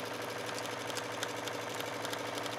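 Sewing machine stitching grosgrain ribbon onto a skirt waistband: a steady, rapid mechanical whirring and clatter running continuously and close, with no talking.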